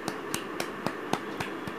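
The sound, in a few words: children clapping hands in a kindergarten class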